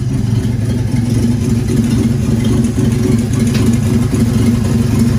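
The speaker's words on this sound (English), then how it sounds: "All right, we got the van running. It's idling." A van engine idles steadily up close, a loud continuous low rumble with an even mechanical throb and no voices.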